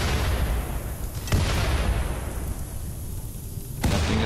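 Explosions and booms from the video game Rimworld: a loud, continuous rumble of blasts, with sharper bursts punching through twice.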